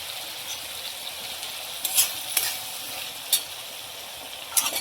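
Vegetables (chillies, cauliflower and peas) stirred in a hot pan for veg biryani, a steady soft sizzle with a few sharp scraping clinks of the spoon against the pan.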